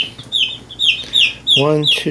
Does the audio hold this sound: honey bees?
no